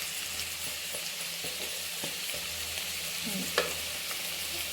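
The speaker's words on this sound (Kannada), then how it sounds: "ಈಗ ಈರುಳ್ಳಿ ಚೆನ್ನಾಗಿ ಆಯಿಲಲ್ಲಿ ಫ್ರೈ ಆಗಬೇಕು" Onion and garlic fry in hot oil in a pan for lemon rice, giving a quiet, steady sizzle with a few faint stirring clinks and one brief scrape.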